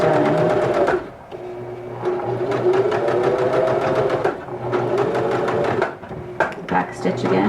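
A sewing machine stitches a skinny scarf in rapid, steady runs, pausing briefly between bursts, close and clear, while a person talks over it.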